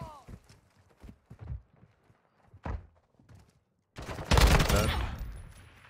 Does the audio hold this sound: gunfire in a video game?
yes